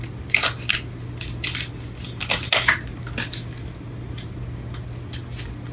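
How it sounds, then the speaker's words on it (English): Tarot cards being shuffled, a series of sharp crisp riffling and flicking bursts in irregular clusters close by, over a steady low electrical hum, with no talking. "Shuffling these cards are hard."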